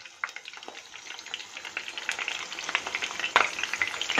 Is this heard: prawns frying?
yes